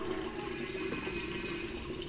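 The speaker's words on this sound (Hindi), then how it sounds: "अब इसके अंदर ऑयल डालना है।" Cooking oil poured into a pot of katwa gosht meat, a continuous faint liquid pouring and gurgling stream, close and steady with no talking.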